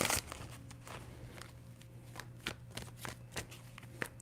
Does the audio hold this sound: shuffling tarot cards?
yes